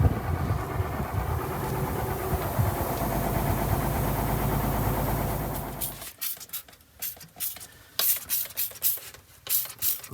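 A bus engine runs at a steady loud drone after repair for about six seconds, then shuts down, leaving scattered rubbing, scraping and clunking sounds nearby.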